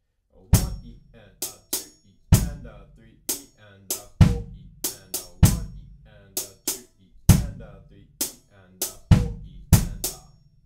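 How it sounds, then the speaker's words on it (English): Kick drum and hand percussion played together in a steady, repeating groove for a song, with punchy low thumps and sharper slaps landing in a tight rhythm, close and clear with no talking. "Together, the kick and the hands will sound like this."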